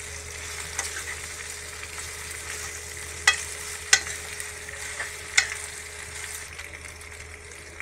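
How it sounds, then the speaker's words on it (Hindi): Macaroni being stirred in a pan for cheesy pasta, soft sizzling and scraping at low level with a few sharp clicks of the spoon against the pan, no talking. "अब इसमें मैक्रोनी डालेंगे और इसको अच्छे से मिक्स कर लेंगे"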